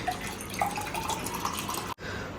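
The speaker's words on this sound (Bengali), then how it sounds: "এবার শুধু যেটা করতে হবে সেটা হচ্ছে ঠান্ডা জল বার করতে হবে" Cold water pours and trickles steadily for about two seconds into a container at home, close and moderately loud, then stops abruptly.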